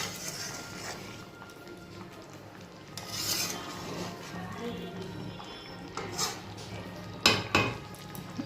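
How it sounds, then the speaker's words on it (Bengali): Ridge gourd fritters are gently stirred in a covered pan, making soft scraping and rubbing from a utensil against the pan over a low sizzling background, with a few brighter metallic clinks. "ঢাকাটা খুলে এবার খুব সাবধানে হালকা করে একটু নেড়ে দেব"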